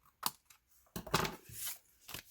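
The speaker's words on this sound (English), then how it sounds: "So we'll just trim off the excess here." Scissors trim excess paper from a handmade drapery-fold card, giving a few short, close snips and a longer cutting stroke, with brief quiet gaps between cuts.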